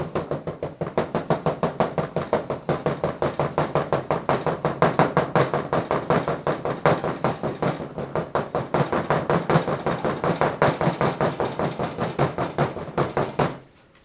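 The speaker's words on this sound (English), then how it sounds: "That's why knocking works." Rapid, steady knocking on a freshly poured plaster plate mold to shake air bubbles up to the surface, a continuous close tapping rhythm that runs without pause for about fourteen seconds, then stops.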